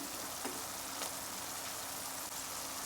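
Onions sizzle in a spiced pan for a shrimp and breadnut curry, a steady close hiss of frying with faint crackles and no talking.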